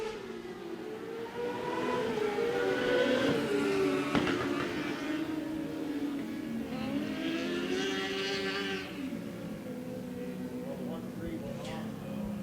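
Micro sprint race cars on the final lap at Stuart Raceway, a high, wavering engine whine swelling and sweeping in pitch as cars pass through the corner, heard under an announcer's running commentary.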